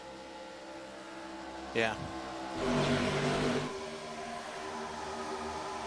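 Race cars in an iRacing ARCA series race at Talladega whiz past in a brief rising and falling rush over a low engine drone, set under someone talking.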